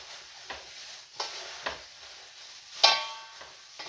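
Meat sizzles in a frying pan at a soft, steady hiss, broken by several scraping stirs and one sharper clink of utensil on pan, fairly close.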